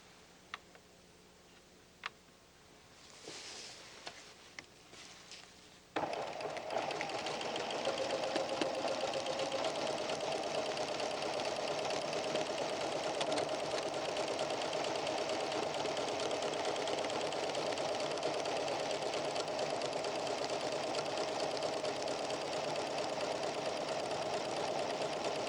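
PFAFF creative 7550 sewing machine stitching a 3 mm zigzag satin stitch around cut work edges, a steady rapid ticking whir that starts after a few quiet clicks and runs continuously, moderately close.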